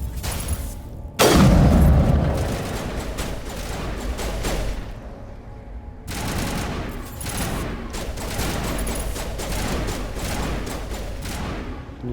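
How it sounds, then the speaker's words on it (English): Gunfire in the video game Mass Effect: dense, loud bursts of rapid shots with booming low-end impacts, a heavy volley near the start, then another sustained stretch of shooting after a brief lull. "Can you stop shooting at something I can't see?"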